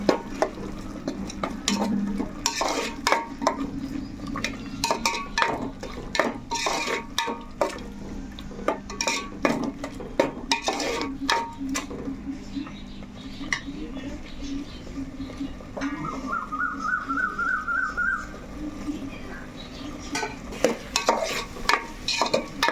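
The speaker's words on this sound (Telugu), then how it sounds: "మసాలా అయితే బాగా వేగిపోయిందండి" Masala is being stirred and fried in a pan for a tamarind fish curry: a spoon scrapes and clinks against the pan in an uneven rhythm, with soft sizzling underneath and a voice talking over it.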